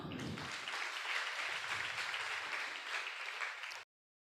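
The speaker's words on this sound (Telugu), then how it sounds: "చప్పట్లు కొడదామా?" A church congregation claps together in steady, dense applause that fills the hall and then cuts off abruptly.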